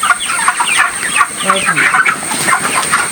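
A large flock of 35-day-old broiler chickens in a poultry farm shed clucks and chatters continuously, a dense, loud, overlapping chorus heard from inside the flock with a steady high hum behind it.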